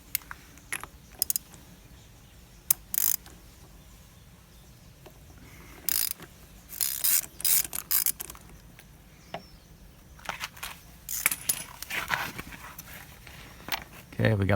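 A socket wrench with an extension works loose the countershaft sprocket nut on a KTM 690 Enduro R motorcycle. Sparse metallic ratchet clicks and clanks arrive in short bursts, mostly near, with a voice talking at times.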